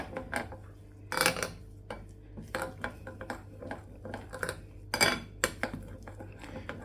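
Honey candy (thaen mittai) mixture stirred in a bowl, with repeated close clinks and scrapes of a utensil against the bowl in an uneven rhythm, a faint steady hum beneath and no talking.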